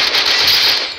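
Gunfire from the battle royale game Garena Free Fire bursts loud and close in a short, dense rattle of rapid shots with no talk.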